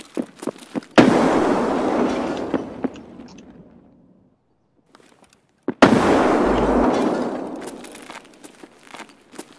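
Two heavy grenade blasts in the game Escape from Tarkov, each a loud boom with a long, rumbling decay, set among quieter footsteps and clatter.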